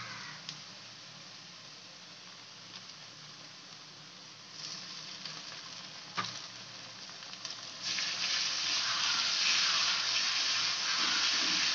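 Chopped onion frying in oil in a pan, ahead of ginger garlic paste for a restaurant-style pomfret fish curry, gives a steady soft sizzle that swells into a louder, fuller hiss for the final few seconds.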